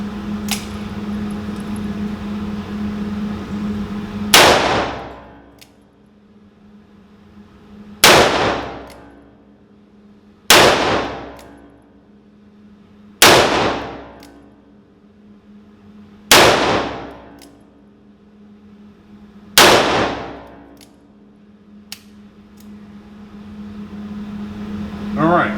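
Ruger GP100 .357 Magnum revolver fired six times in single action, each loud sharp report separated by several seconds of quiet with a low hum underneath.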